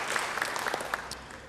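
A church congregation applauds after a sermon, a short, steady, dense burst of clapping with a few louder claps, heard alone.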